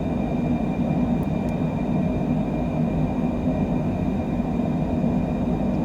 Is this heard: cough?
no